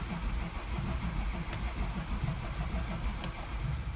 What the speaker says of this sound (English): At least we got the car cranking now